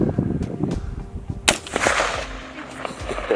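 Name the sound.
gunshots from target shooting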